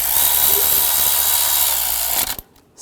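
Loud power tool whirring steadily up close for about two seconds as bolts are run down on a wire housing bracket of a 2006-2009 Mercedes-Benz E350 with the 3.5L V6, then cutting off abruptly.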